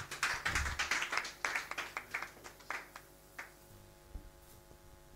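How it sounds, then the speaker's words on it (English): Congregation clapping at a church service, a close burst of sharp, fairly quick claps that gradually thin out into a few scattered final claps, with a faint sustained tone underneath. "Clap for Jesus"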